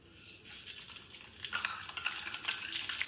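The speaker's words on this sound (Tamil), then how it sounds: "கடுகு நல்லா வெடிச்சாச்சு." Hot oil crackles and sizzles steadily, with sharp popping bursts growing denser toward the end as mustard seeds splutter in a pan close by.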